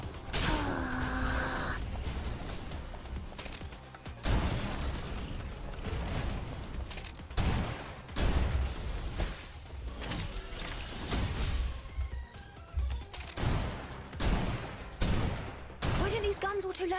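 Gunfire from guns in the shooter Snowbreak, repeated bursts and single cracks over seventeen seconds, mixed with mechanical clanks and game effects in a dense, loud combat soundscape.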